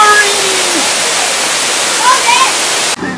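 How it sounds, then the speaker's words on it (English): A waterfall roars as a loud, constant broadband rush close by, cutting off abruptly near the end of its three seconds. "Waterfall!"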